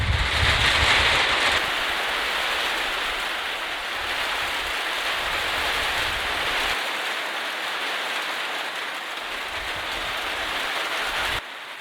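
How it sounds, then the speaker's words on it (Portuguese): Heavy rain driven by wind roars as a dense, steady hiss that stays loud and close throughout, with gusty low rumbles early on and no talking. "Sempre vem um vento na frente, para depois vir a chuva."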